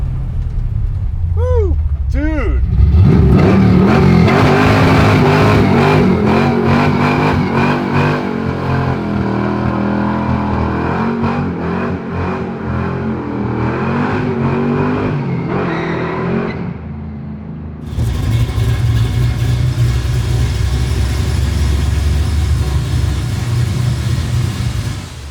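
A garage-built 1967 Ford Mustang engine revs hard and loud up close, climbing through sharp rising bursts before settling into a heavy, rumbling throttle roar that continues throughout, with voices audible in the background.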